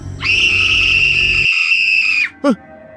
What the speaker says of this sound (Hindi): उस चीख ने राहुल को थोड़ा डरा दिया था।